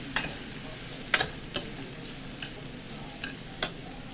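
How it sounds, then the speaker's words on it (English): A spoon stirs liquid aminos into a West African rice pot, giving a few sharp, scattered scraping knocks against the pot over a quiet background. "I'm going to stir that in"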